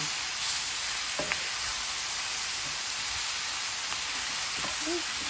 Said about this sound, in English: And we're just going to let this saute down.